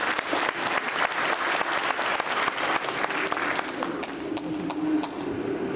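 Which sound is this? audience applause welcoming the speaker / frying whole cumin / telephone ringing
audience applause welcoming the speaker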